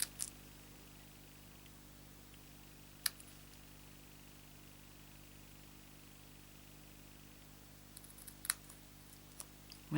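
A few sharp, isolated scissor snips while fussy cutting a small card piece for a box card sit over a steady low hum, with long quiet gaps between the cuts.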